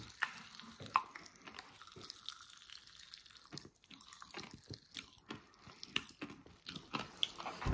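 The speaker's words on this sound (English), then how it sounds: "Guys, did you hear the popping?" Popping candy crackles and fizzes in a mouth during chewing, with irregular sharp little snaps and wet clicks scattered close to the microphone, fairly faint and with no talking.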